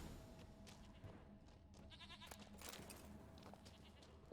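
A goat in The Witcher 3 bleats in short, faint, wavering cries. Soft thumps and quiet game ambience run underneath, and a louder bleat bursts out at the very end.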